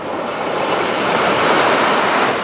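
Strong ocean waves break on a beach in Siargao, a loud, broad rushing surf that swells slightly over a couple of seconds, mixed with wind buffeting the microphone and no voices.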